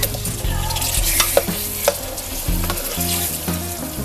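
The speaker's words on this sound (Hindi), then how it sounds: "तो अब मैं इसमें मीट ऐड कर रही हूँ।" Meat hits hot frying masala for a murgh chanay curry and sizzles steadily as it is stirred, with scraping strokes of the spoon against the pan recurring throughout at close range.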